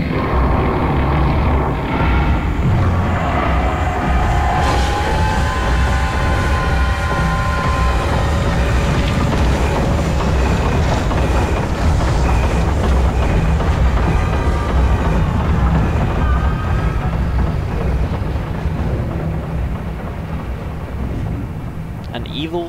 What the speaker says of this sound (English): An evil train cathedral.